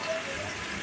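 Water gushes steadily into a cooking pot on a home kitchen stove for chicken and potato curry, a brief continuous splashing pour, close and fairly soft.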